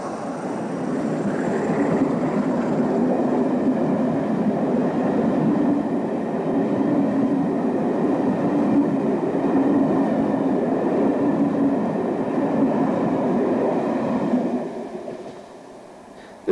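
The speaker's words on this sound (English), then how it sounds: "Here we see a Class 47 heading north onto the seawall." A Class 47 diesel locomotive hauls a train north along a seaside seawall, its steady rumble and wheel noise loud and close for most of the pass before tailing off at the end.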